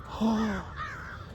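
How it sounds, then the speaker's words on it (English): Crows cawing in the Club Penguin video game during its Halloween event: two drawn-out harsh caws, the first louder, the second fainter, over a soft game background with no speech. "Those crows should have been there for cornstalkers."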